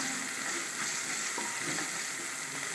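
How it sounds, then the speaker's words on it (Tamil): Coconut and pre-boiled chana dal sautéing in a pan for Tamil-style spicy kuzhi paniyaram, giving a steady, close sizzle with light stirring scrapes throughout and no talk. "கடலைப்பருப்பு நம்ம ஆல்ரெடி அவிச்சு வச்சுருக்கோம், சும்மா ஹீட்டுக்காக லேசாக போட்டு வதக்கிக்கோம்"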